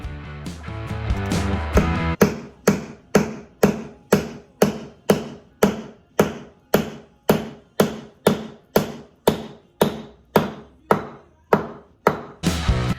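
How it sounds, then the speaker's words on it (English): Steady, evenly spaced hammer blows driving a wooden wedge into a chair's through tenon, about two per second, loud and close, each a sharp knock with a short ringing decay; no voices. "I knew when the wedge was in far enough when the tone changed when I was hammering it in"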